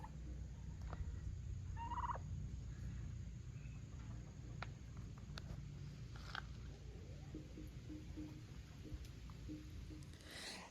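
Two-week-old turkeys make occasional short calls and chirps over a quiet outdoor background, soft and scattered with no one talking.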